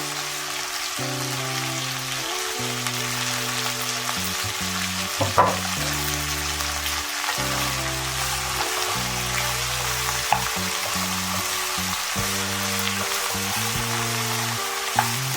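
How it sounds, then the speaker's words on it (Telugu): Onion and capsicum pieces fry in a hot pan with a steady, close sizzle and crackle, accompanied by background music and a few small clinks. "ఈ ఉల్లిపాయ ముక్కలు క్యాప్సికం ముక్కలు అలా వేగితేనే బాగుంటాయండి"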